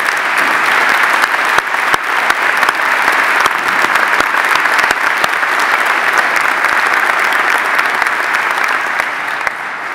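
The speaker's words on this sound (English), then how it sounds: "They're the ones who deserve a round of applause," An audience at a university presidential inauguration applauds steadily for the full length, with dense clapping that stays loud throughout and is heard alone.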